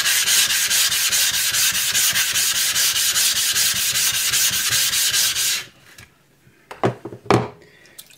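A knife blade is sharpened on a coarse 120 grit Shapton Pro whetstone, rapid rhythmic gritty rubbing strokes for several seconds, then stopping, followed by a few brief clacks and handling sounds.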